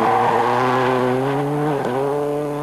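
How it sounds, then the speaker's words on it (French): Ford Focus WRC rally car at full throttle on a rally stage in Turkey, its engine howling close by with a rising rev note, a brief dip as it shifts, then pulling on again. "Regardez, le Turc Yazici et sa Focus WRC."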